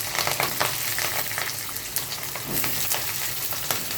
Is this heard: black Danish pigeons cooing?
no